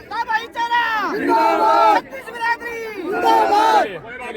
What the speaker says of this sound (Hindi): अब लगा दो पुलिस के पक्ष में नारे जो लगा रहे हैं।